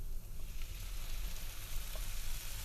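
Tomatoes hit a hot pan of sautéing chilies for Indian aloo matar, giving a steady close sizzle and crackle with faint stirring, no voices.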